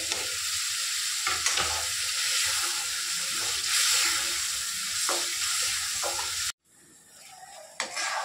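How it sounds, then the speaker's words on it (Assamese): Spices sizzle and crackle loudly in a pan with repeated scraping stirs, then the frying cuts off abruptly and a quieter clatter follows. "মছলাখিনি ভাজি লওঁ"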